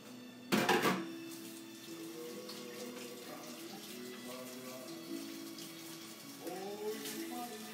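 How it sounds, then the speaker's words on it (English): Running tap water splashes steadily as hands are washed at a kitchen sink while cooking shrimp scampi, a sharp burst near the start and then a continuous mid-level flow with brief clinks. "let me wash my hand."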